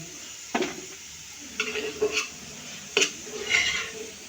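Scraping and clinking of a utensil against a pan while lifting out lightly browned fried garlic, with a few distinct bursts of metallic stirring and faint sizzling in a quiet kitchen, no talking.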